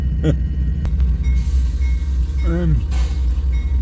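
A heavy freight train rumbles low and steady as it rolls out, with a brief voice cutting in partway through and faint squeals above the constant rolling drone.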